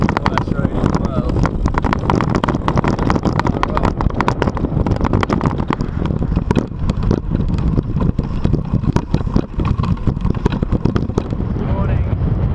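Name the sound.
strong wind blowing in the desert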